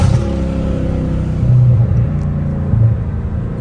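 Dodge Hellcat Redeye with its supercharger pulling hard in second gear, a loud steady engine roar with a droning whine layered on top, rising slightly as it accelerates, heard from inside with no talk.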